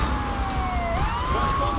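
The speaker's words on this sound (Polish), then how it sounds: "Wyłączę taką wam wkurwiającą syrenę" Police car siren in the video game GTA III, a continuous wailing tone that glides downward and then rises again, loud and close, with engine rumble underneath.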